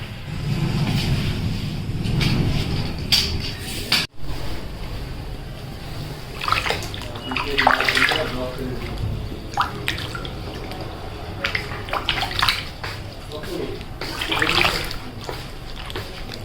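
Sliced potatoes for chips are swished and rinsed in a basin of water, with irregular splashes, drips and sloshing close by, moderately loud and uneven throughout.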